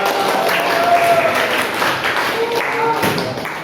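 A classroom full of people clapping steadily, dense and continuous applause that carries on for several seconds at a strong, even level.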